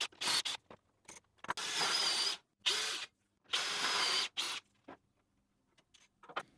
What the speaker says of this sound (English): drill the holes in both pieces